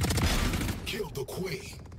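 Rapid gunfire bursts in PUBG Mobile during a live match, loud and dense at first then thinning out, with players' voices talking over the shooting.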